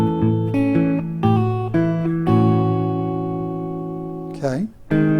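Acoustic guitar picks out a passage from a song, sustained harmonic notes ringing in sequence with a slide near the end, played alone and close.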